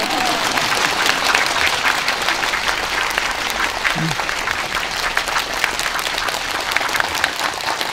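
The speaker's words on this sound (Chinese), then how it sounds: "继续拍手" Sustained audience applause at a spiritual lecture hall, dense steady clapping from a large crowd that holds evenly for the full stretch, with a faint voice briefly underneath.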